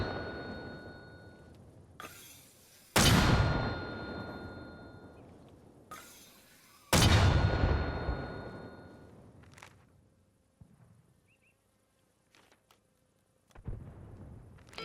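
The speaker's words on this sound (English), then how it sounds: "you guys see mortars dropping on Utah?" Mortar shells exploding in the military game Arma Reforger: several heavy, booming blasts, two of them loud and close with long rumbling decays, and fainter distant impacts between them, with no talk.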